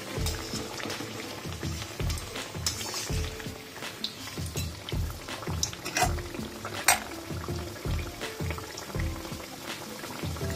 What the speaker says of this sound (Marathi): साटोरी टाकू आपण तळायला